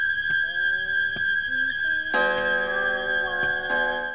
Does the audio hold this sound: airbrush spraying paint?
no